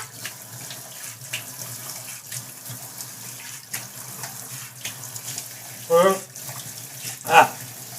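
Water runs from a tap as someone washes up amid wedding preparations, a steady rushing hiss with a couple of louder splashing bursts near the end; faint voices may be present in the background.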